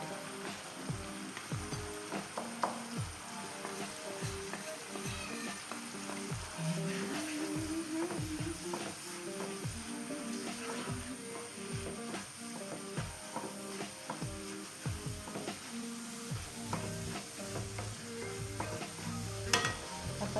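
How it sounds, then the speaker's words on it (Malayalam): Ground coconut paste sizzling in a pan for a Kannur-style roasted-coconut onion curry, a steady fry hiss throughout with repeated scraping and stirring clicks of a spoon against the pan. "ഇപ്പോൾ ഞാൻ ആവശ്യത്തിനുള്ള അരവ് എടുത്ത് വെച്ചത് ഇതിലേക്ക് ചേർത്ത് കൊടുക്കുന്നു"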